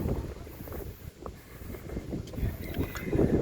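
A breeze blows along a riverwalk in Valenzuela City, making a low, continuous rumble that buffets the microphone and swells slightly toward the end.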